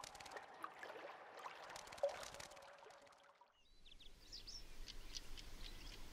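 A Eurasian eagle-owl calls faintly and far off in a rocky mountain range, its hoots soft against a steady background hiss like running water, with no talk.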